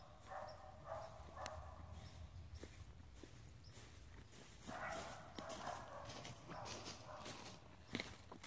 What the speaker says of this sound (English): As you can see, there are vicious dogs off in the distance.